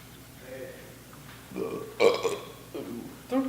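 A young man lets out several loud burps, short guttural eructations in quick succession with pauses between, set in a casual indoor scene among friends.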